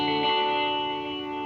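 An electric guitar runs through an analog delay with modulation. Sustained, chorused tones shimmer with a slight wavering swirl and hold steady at moderate loudness, with no voice over them.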